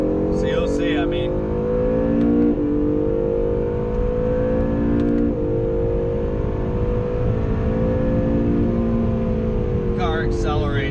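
A 2017 Acura NSX of 573 hp accelerates hard on a race track, its engine note climbing steadily through gear changes with brief shifts in pitch, loud and close under a continuous roar.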